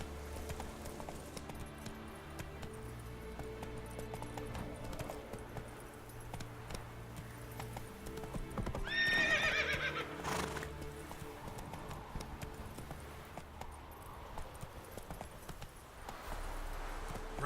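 Horse hooves clip-clop at a steady gallop in The Witcher 3 video game, with a brief whinny partway through, set against game music and ambience.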